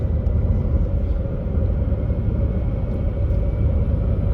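A car with a bad transmission cruising on the highway gives a steady, loud low rumble of engine and road noise that holds evenly from start to finish with no talk.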